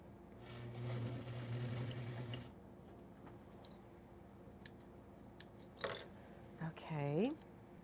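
A sewing machine whirs in a short run of stitching on a corset, followed by quiet clicks, handling noises and a brief rising whine.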